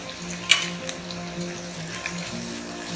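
Red chilli powder and coriander powder frying with tomatoes in a masala, a faint steady sizzle with a sharp clink of a utensil early on and soft stirring touches.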